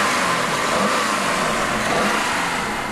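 A BMW Cabrio's twin-turbocharged 4.4-litre V8 runs steadily at a loud, constant drone with a low rumble, close by and continuous, with no talk over it.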